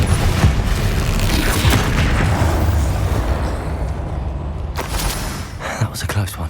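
A Confringo fire-blast spell from Hogwarts Legacy goes off in a sustained, heavy booming roar with crackling bursts, loud and close throughout, thinning out briefly before another burst near the end.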